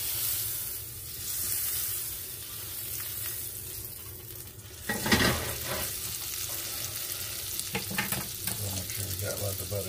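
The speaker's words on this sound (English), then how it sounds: "It's hot. Throw some butter in there." Lots of butter sizzling and frying in a hot cast iron skillet for thick cut boneless pork chops, a steady close hiss that swells louder midway with some stirring and clatter.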